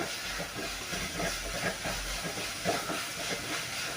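Onion sautéing in a pan with ginger and garlic for a ridge gourd curry: a steady, close sizzling hiss that runs without a break, with no talking.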